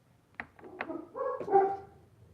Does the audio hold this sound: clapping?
no